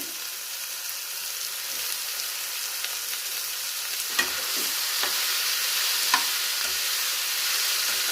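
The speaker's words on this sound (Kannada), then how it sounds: "ಎಣ್ಣೆಲೇ ಚೆನ್ನಾಗಿ ಫ್ರೈ ಮಾಡ್ಕೋಬೇಕು" Bitter gourd frying in plenty of oil with tomato and onion, a loud continuous hiss of sizzling with a couple of brief stirring scrapes midway.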